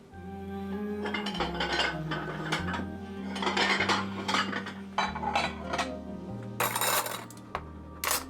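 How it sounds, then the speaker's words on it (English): Cups and a bowl being washed at a kitchen sink, with dishes and cutlery clinking and knocking repeatedly over a steady background hum, close and fairly busy throughout. "And plus I have 2 cups and a bowl to wash"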